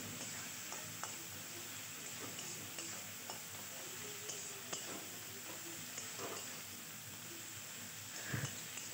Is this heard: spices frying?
yes